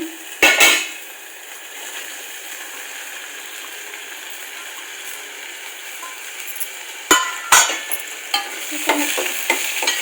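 Cluster beans tipped into a pan with tomatoes for a Malvani-style vegetable dish, then stirred, producing a steady near sizzle broken by a few sharp scraping clatters of the spoon against the pan.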